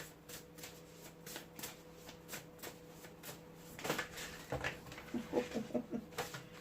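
Tarot cards being shuffled and drawn, soft quick riffling flutters repeating at a steady pace, then a busier burst of card handling and slaps near the end, quiet and close with no speech.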